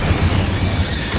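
An Incendio fire spell roars in Hogwarts Legacy as a dense, loud burst of flame with deep booming rumble, sustained and close for about a second, no voices.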